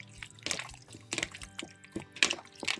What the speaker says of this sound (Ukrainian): Тепер ми беремо це все, розмішуємо.